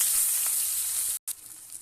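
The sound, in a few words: onions frying in oil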